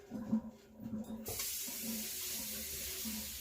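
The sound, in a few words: draining parboiled potatoes in the kitchen sink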